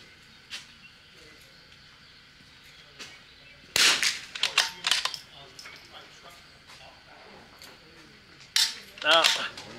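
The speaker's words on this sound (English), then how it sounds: "I think I shot one too many in the first group." Rifle shots at a Vudoo versus CZ rifle match, heard as a few sharp cracks fired in quick succession, mid-distance, with a clattery burst near the end and quiet talk between.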